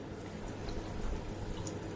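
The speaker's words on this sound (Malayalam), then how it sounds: "പിന്നെ ഞാൻ ചെയ്യുന്നത് അതിലേക്ക് കുറച്ച് വെള്ളം ഒഴിക്കുകയാണ് കേട്ടോ" Water is poured into frying potato masala in a pan as a poori side dish is cooked. It makes a soft, continuous splashing and sizzling that is quiet and close, with no talking.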